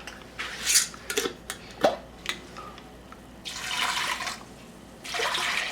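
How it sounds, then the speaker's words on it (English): Stock poured into a pan of chopped onions, carrots and celery, heard as splashy, hissing liquid bursts and a few clinks, close by, with two longer pouring surges toward the end. "just enough of the stock in there to get a little bit of a boil going on these."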